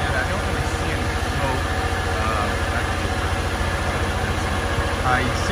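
A Nissan 300ZX engine runs at idle with SeaFoam being sprayed into it, giving a steady, close, low rumble with a regular pulsing beat and only slight shifts in pitch.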